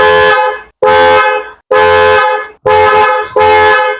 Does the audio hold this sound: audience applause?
no